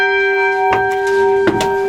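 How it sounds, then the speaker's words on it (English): Church bells ring in the tower of St Michael's, Thornhill, the small light treble among them, with two loud clear strikes and sustained ringing tones heard from inside the ringing chamber. "That's the smallest bell in the tower, the light treble."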